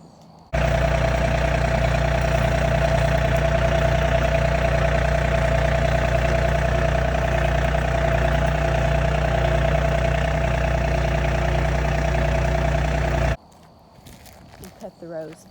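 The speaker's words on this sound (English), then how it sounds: "He hooked that up to the tractor." A steady, loud tractor engine idles at a constant low drone for most of the clip, then cuts off abruptly, leaving quiet background noise.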